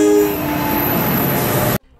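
An NJ Transit Arrow 3 electric multiple-unit train sounds a single loud, sustained horn blast along with the roar of the train, cutting off abruptly near the end.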